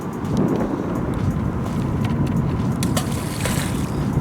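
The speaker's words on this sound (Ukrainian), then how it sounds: "Ой, вітер віє." Steady, broadband rumbling of wind buffeting outdoors, constant and fairly loud, with a few faint knocks and clicks mixed in.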